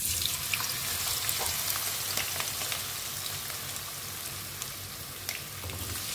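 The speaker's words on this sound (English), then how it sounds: "our oil is ready so now we are going to put our chips" Chips frying in hot oil fill the whole span with a steady, close sizzle and crackle, a dense hiss with scattered small pops and no talking over it.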